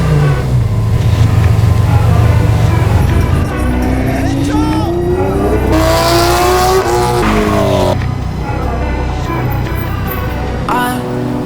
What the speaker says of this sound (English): terrorizing the streets in supercars on a random